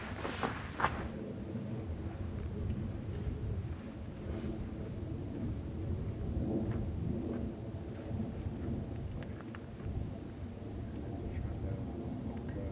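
Low, rolling thunder rumbles continuously beneath steady rain, with a sharper crack early on; a distant, enveloping storm during a pronghorn hunt in Utah, without talking.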